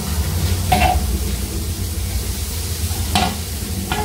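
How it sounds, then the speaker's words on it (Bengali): Fish fries in a hot pan with a steady, close sizzle throughout, broken by a few brief scraping stirs. "এই যে মাছ ভাজা হচ্ছে"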